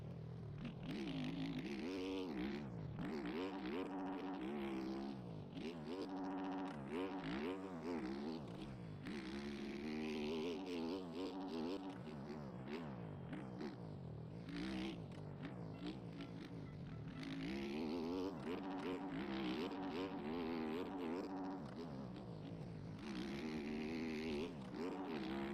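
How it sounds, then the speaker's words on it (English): Motocross bike engine in a racing game held in second gear and revving out, a loud continuous whining drone with repeated rising and falling pitch sweeps, without talking. "Just revving it out in second."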